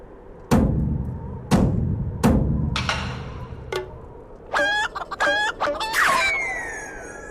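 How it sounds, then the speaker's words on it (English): Chickens cluck and a rooster calls in Final Fantasy XIV, with heavy thumps at the start, then a run of sharp, rapid clucks ending in a drawn-out squawk, close and loud with no talk. "he just grabs a random chicken and paints it green"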